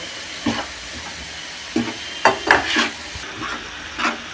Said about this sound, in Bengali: নাকি মশলাটা আমি কষিয়ে নেব।